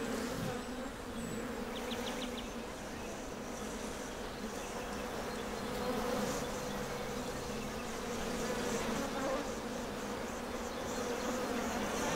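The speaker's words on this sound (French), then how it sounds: "Un essaim vient de quitter la ruche surpeuplée." A honeybee swarm that has just left an overcrowded hive settles in a hedge, producing a dense, continuous buzzing hum that stays close and fairly steady throughout.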